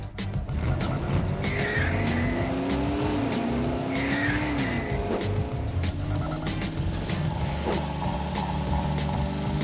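Animated cartoon cars race at night with a loud, continuous engine roar, joined by two sharp rising tire squeals early on and a sliding skid tone, all steady and close with no voices.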